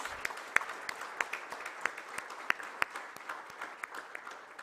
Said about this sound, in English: A huge round of applause on the launch.